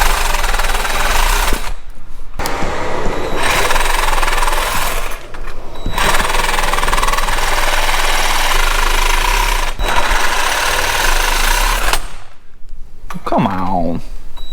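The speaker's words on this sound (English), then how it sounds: "the first thing I'm going to do is cut a spring with a sawzall" A Sawzall reciprocating saw cuts through a car's coil spring during suspension lowering on a Subaru SVX, a loud, harsh buzzing rasp running in long bursts with brief pauses between cuts; a voice speaks near the end.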